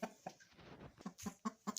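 Hens in a nest give a few soft, brief clucks in a short, quiet sequence, close by and alone.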